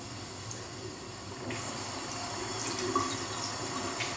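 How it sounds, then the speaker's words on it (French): Tap water runs steadily into a sink as a hard Kiko konjac-style facial sponge is rinsed under it, a continuous close rushing hiss with slight changes in tone partway through. "elle est très dure, donc je vais la passer sous l'eau"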